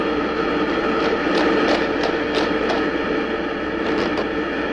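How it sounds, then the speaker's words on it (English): A cartoon royal vacuum cleaner from a 1960 King Leonardo short runs with a steady mechanical whirring hum, broken by a series of rhythmic clattering bursts. No talk. "Just get the royal vacuum. Plug it in."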